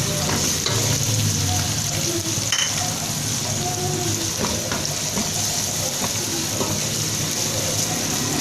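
Chopped onion and garlic sizzling steadily in a pan for mixed vegetable curry, a dense continuous hiss with occasional stirring scrapes and pops, close and fairly loud.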